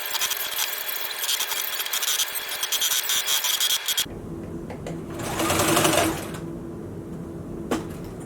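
A sewing machine runs a tack-down stitch on a summer shirt to hold the lining in place, whirring in a fast rapid stitching burst for about four seconds, then stopping, with soft handling noises and rustling afterward.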